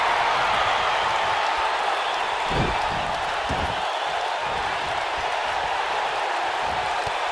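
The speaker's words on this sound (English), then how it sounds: "the crowd is loving Sasha's act" Arena crowd in the WWE 2K19 wrestling video game cheers during a women's match: a dense, steady roar of noise, loud and constant throughout, with a few dull impacts underneath.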